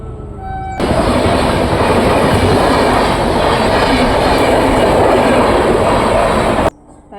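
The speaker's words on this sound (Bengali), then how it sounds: "ট্রেন আসছে" A loud train rushes past close by, a continuous roaring rumble with rattling wheels that cuts off abruptly near the end.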